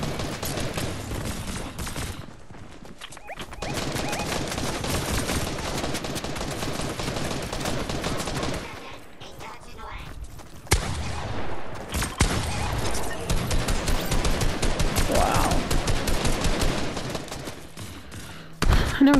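Sustained rapid gunfire in Fortnite squads play, dense bursts of automatic shots running almost the whole time, loud and close, with a short lull midway before the firing resumes.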